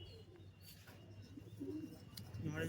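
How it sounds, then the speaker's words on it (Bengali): Giribaz pigeons from Murshidabad coo softly in a cage, giving low, faint, intermittent murmurs against quiet background noise that grows slightly louder toward the end. "এই দেখুন পায়রা হলো এটা মাদাটা আর এটা নর পায়রা"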